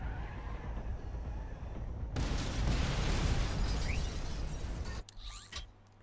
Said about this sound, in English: Why is the gas station about to explode?